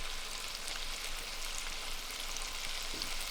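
Chopped chicken thigh fillets seasoned with salt, pepper and taco seasoning frying in oil in a pan, a steady even sizzle, fairly soft and continuous, with no talking.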